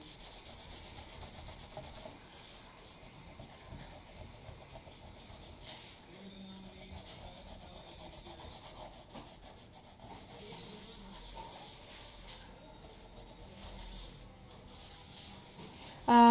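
Fingernails scrape leftover candle wax from the bottom of a jar, a soft, continuous rubbing and scratching that stays fairly quiet and close, with no talk over it.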